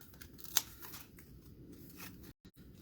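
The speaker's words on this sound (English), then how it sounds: "I do have a little bit of unraveling, so I'm just going to snip that off" Scissors give a single crisp snip through a loose, unraveled thread on a card-making project, close and quiet, followed by faint handling rustle.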